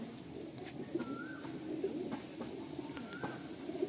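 Madrasi pigeons in a loft give a few soft, low coos against steady background noise and a faint hum, with a couple of brief higher calls standing out over the quiet murmur.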